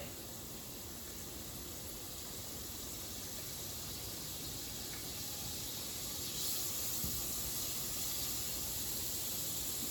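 Garlic sautés in melted butter with a steady, faint hiss of frying that holds even throughout, brightening slightly partway through, with no voices.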